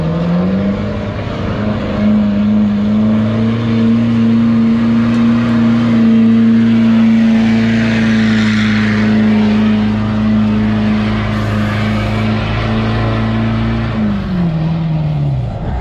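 A 6.7 diesel truck drags a sled down the track at a spring truck pull, its engine holding a loud, steady, strained drone for about fourteen seconds before the pitch drops as it bogs and stops.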